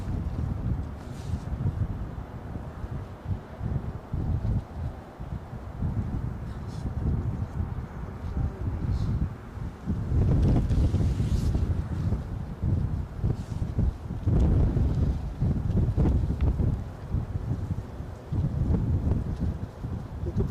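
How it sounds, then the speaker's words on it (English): Gusty wind on a blowy day at an outdoor plane-spotting spot, buffeting the microphone in uneven rumbling surges that grow stronger toward the end, with no talking. "You could probably hear the wind to an extent. It's a blowy day without being headline grabbing."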